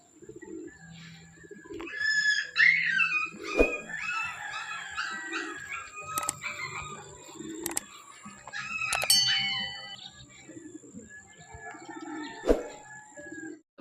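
Racing pigeons coo and flutter soon after release on a training lap, with scattered chirps and short bursts of nearby noise, loud in places.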